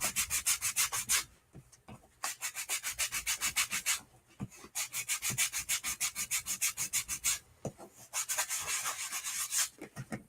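Steady back-and-forth sanding strokes rasp across a hard plastic container in quick rhythmic bursts, with a few brief pauses between runs.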